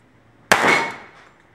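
A single sharp report from a .45 ACP pistol, loud and close after a near-silent lead-in, followed by a decaying ring and echo.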